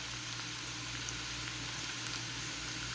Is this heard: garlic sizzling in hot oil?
yes